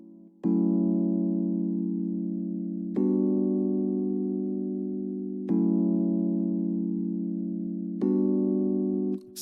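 Simple electric piano chords for an Afro Swing beat, four sustained warm chords struck at a steady pace, each ringing for a couple of seconds before the next, played alone and fairly loud.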